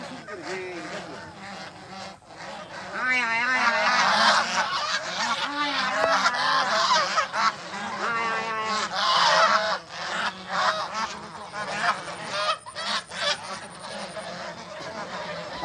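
A flock of domestic geese honks loudly and almost continuously at night on a goose farm, many overlapping calls close by, with a buzzing insect-like tone partway through.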